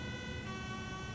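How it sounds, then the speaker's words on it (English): An ambulance siren in a video game wails steadily and loudly, its tones sustained without a break over a faint low rumble. "The ambulance is coming."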